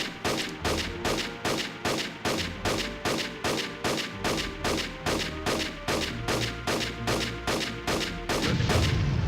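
Rapid rhythmic gunfire from the video game Army Men: Sarge's Heroes 2, a steady stream of loud repeated shots with a rumbling undertone, ending in a denser burst of noise.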